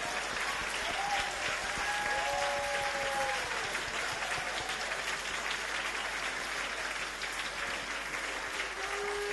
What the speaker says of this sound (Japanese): 賛美チームの皆さんに大きな拍手を皆さん捧げましょう。